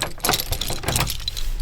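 Keys and a Fiat Ducato van key fob jangle close by outdoors in freezing winter weather, a quick burst of metallic clinks and rattles that goes on steadily for a moment.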